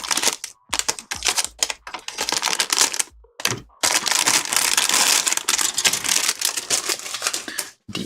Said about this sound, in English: Crinkling some plastic.